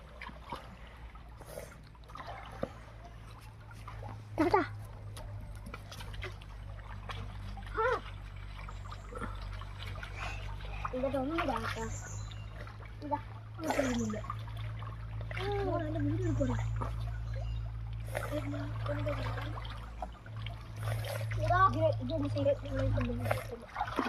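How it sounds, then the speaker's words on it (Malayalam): Water splashes and trickles intermittently as fabric is worked and scrubbed nearby, with a steady low hum underneath and voices speaking at times. "അവൻ്റെ തുണി അവൻ കഴുകുന്നു, വെള്ളത്തിൻ്റെ അകത്തിട്ട് സോപ്പിടുന്നു"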